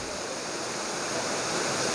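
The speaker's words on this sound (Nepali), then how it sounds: "झोडाले नै यो बाटो यहाँबाट तानेर लगेको छ" A stream swollen by heavy rain in Kalimpong rushes past a washed-out culvert, a loud, dense, continuous roar of water close by with no talk.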